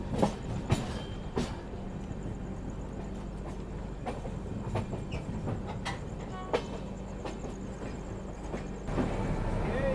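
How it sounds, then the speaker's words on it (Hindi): A train rumbles past a stopped passenger train near Itarsi, India, with steady low rolling noise, clicking wheels and sharp rattling clanks at intervals. Brief voices can be heard faintly underneath. "अभी सामने से एक ट्रेन आ रही है, हमें क्रॉस करेगी"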